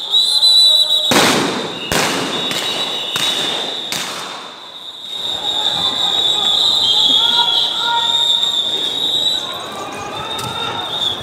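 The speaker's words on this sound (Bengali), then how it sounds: "সাউন্ড গ্রেনেডের শব্দ আবার শোনা যাচ্ছে" Sound grenades go off during a police clash with political activists at a street protest near the National Press Club and Purana Paltan, Dhaka. Several sharp, loud blasts come in quick succession, followed by a steady crowd din with a high whistling tone. Voices are heard throughout.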